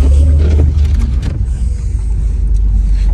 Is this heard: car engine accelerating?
yes